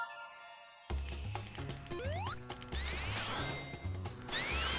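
Level music from the video game Sonic Superstars starts abruptly after a near-silent moment, then plays busy electronic notes with a bouncing bass line and sweeping synth slides, steady and fairly loud, with no talk.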